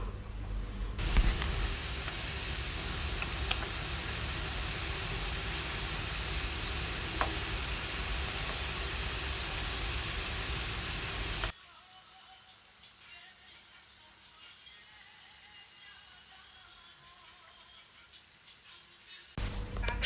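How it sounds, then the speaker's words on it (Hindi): Potato sticks deep-frying in preheated oil give a loud, steady, close hiss for about ten seconds, then the sound drops abruptly to a faint low background. "प्री हीटेड ऑयल में जो है वो ये स्टिक्स डालेंगे"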